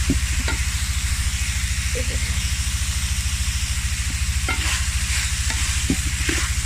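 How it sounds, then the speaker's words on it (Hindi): Carrots fry alongside browned chicken in a pan with a continuous close sizzle, interrupted by occasional scraping stirs, over a loud rapid low mechanical buzz that pulses throughout. "अब इसमें जाएगी गाजर, इसको 2 से 3 मिनट इसको भी हम भून लेते हैं।"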